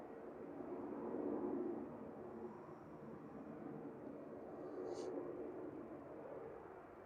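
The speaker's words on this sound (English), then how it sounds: "It's a noise from that little jet." Cessna Citation business jet at Manchester Airport, a faint, distant broadband engine roar that swells and fades gently over several seconds, with a brief high chirp near the end.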